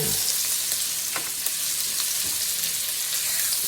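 Salt-and-pepper seasoned steak sizzles and spits steadily in a hot skillet, a dense close frying hiss with faint pops and no talking.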